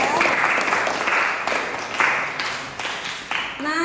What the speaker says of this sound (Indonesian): tepuk tangan ya buat Hasful ya